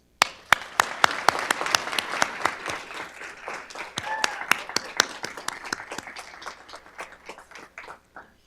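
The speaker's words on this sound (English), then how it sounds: "Please raise your hand and let's applaud them." Applause from an audience at a college nursing summer pinning ceremony, sharp individual claps that thicken into a sustained round and then thin out and fade toward the end.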